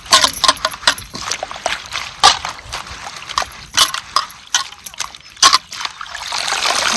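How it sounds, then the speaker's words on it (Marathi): Water splashes and sloshes in bursts as something is scrubbed and rinsed, with irregular pauses between splashes. "चांगले आपल्याला दोन तीन पाण्याने खळाखळा ही धुवून घ्यायची"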